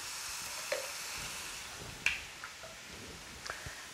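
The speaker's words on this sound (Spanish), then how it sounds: "Ahora voy a ponerle de una vez 2 cucharadas de ajo picado." Two tablespoons of chopped garlic sizzle in a pan for Caribbean-style beans, a faint, even frying hiss broken by a few soft stirring clicks.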